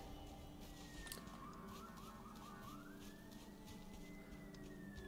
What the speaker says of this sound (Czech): zrovna hasiči tady musí projet kolem, parada.